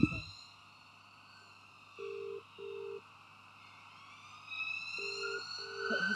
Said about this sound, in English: let me play a siren sound